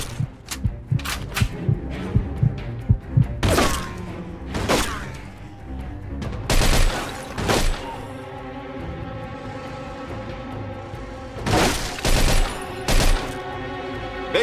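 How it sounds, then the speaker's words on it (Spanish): Gunfire from above in the gangster game Mafia 2, loud separate shots and bursts cracking out irregularly, some in quick clusters, between quieter stretches of background ambience. "¡Disparan desde arriba!"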